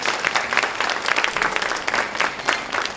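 Steady audience applause fills a hall at a public-sector job fair as a guest interviewer is introduced, dense clapping holding at even strength from start to finish with no voices over it.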